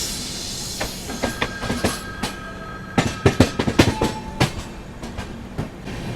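Rajdhani Express heard from inside a 3rd AC coach, with rhythmic clickety-clack of wheels over rail joints building into a rapid burst of sharp clacks, plus a thin metallic squeal over a steady rumble.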